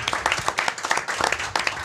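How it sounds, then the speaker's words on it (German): An audience at a live podcast brunch show claps in dense, lively applause for a couple of seconds, close and loud, with a voice faintly audible among the clapping. "können wir auch klatschen"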